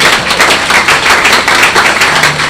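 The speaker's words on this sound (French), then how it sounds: "Applaudis pour toi-même." A French-speaking church congregation claps together in a steady burst of applause that lasts the whole moment and stays close and fairly loud, with no voices over it.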